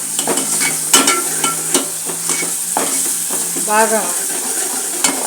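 Masala for bagara rice sizzles in hot oil in a pan, with a spoon scraping and stirring in repeated strokes, close and crackling, while a person speaks briefly over it.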